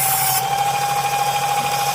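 A Work Sharp Ken Onion MK2 powered knife sharpener runs steadily as a blade is honed to remove burrs, giving a continuous close motor whine with a high belt hum and no speech.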